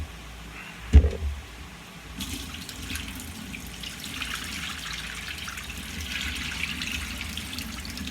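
A kitchen tap runs water over shrimp being rinsed, a steady hiss of flowing and splashing water after a sharp thump at the start, continuing at moderate level to the end.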